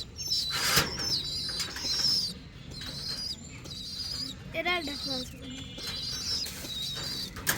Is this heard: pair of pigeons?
yes